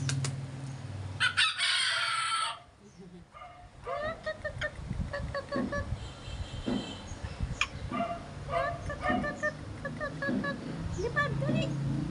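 A backyard rooster crows loudly and close, with chickens clucking around it and a dog barking now and then, while people talk nearby.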